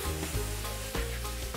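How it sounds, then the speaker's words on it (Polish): Sliced bell peppers fry in a pan, giving a steady, close sizzle with faint stirring scrapes and no talk. "żeby zarówno makaron i warzywa były al dente, dlatego smażę je dosłownie po minucie"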